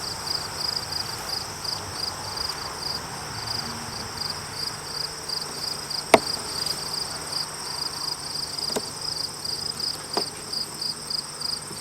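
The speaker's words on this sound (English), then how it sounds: "all of these bees that are on these frames will end up going right back to this hive" Honey bees buzz steadily around hive frames in a backyard apiary in Swanzey, New Hampshire, a dense, continuous drone with a few brief clicks and bumps from handling the frames.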